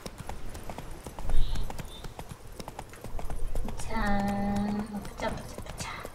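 Roach, the horse in The Witcher 3, galloping with steady, rapid clip-clop hoofbeats close by, a brief whinny midway, and a person talking over the game sounds.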